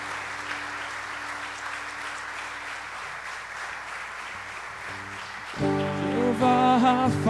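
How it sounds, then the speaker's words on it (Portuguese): Congregation in a church applauding, a steady dense patter of clapping for several seconds before music with sustained notes swells in near the end. "dá uma forte aplauso ao Senhor"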